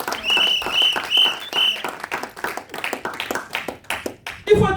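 A church congregation claps during a sermon, rapid uneven applause mixed with shouts and a high whistle or cry, fairly close, ending with a brief voice.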